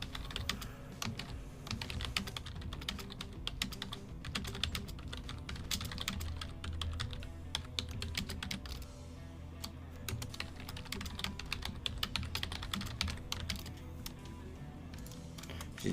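Continuous rapid typing on a computer keyboard, close and fairly quiet, a dense patter of key clicks with brief pauses throughout.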